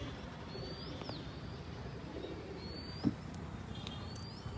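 A few pet pigeons out in the open, with soft coos and faint chirps over steady outdoor background noise and a brief thump partway through.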